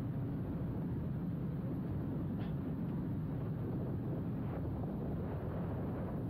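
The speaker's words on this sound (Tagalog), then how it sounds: "Napakas yung hangin." Strong wind roars steadily across the microphone while riding a Kawasaki motorcycle on a cold mountain road, a dense, unbroken low rumble that fills the scene with no speech.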